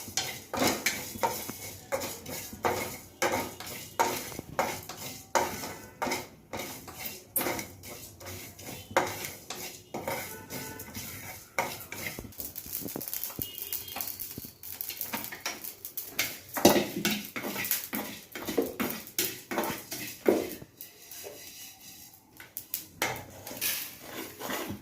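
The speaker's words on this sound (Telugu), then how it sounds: "జీలకర్ర, ధనియాలన్నీ చక్కగా సిమ్మెం పెట్టి లైట్గా వేయించుకోవాలండి." Cumin and coriander seeds with ajwain being dry roasted in a pan on low heat for homemade digestive dry ginger powder, heard as a continuous dense scraping and rattling of stirring, with frequent clinks of the spatula against the pan.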